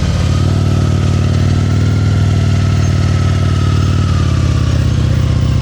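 A motorcycle engine idles and putters loudly and close up during slow-speed riding practice in Illinois, a steady low rumble with slight shifts in revs. The engine runs throughout, with no voices.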